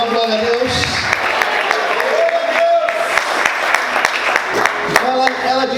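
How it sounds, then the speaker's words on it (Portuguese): A church congregation applauding during a sermon, a continuous crowd of clapping with scattered sharp claps and voices mixed in, moderately loud and steady throughout. "Você pode aplaudir e exaltar o Senhor por isso."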